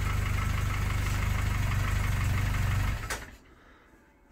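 A classic Mini's 1275 engine runs with a rapid, throaty idle pulse close by, loud and steady for about three seconds before cutting off and leaving quiet.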